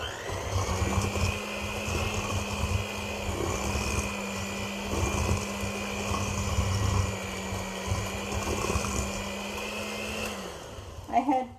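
An electric hand mixer beats softened butter and brown sugar for a Christmas cake, giving a steady, close motor whine that runs without a break for about ten seconds and then cuts off.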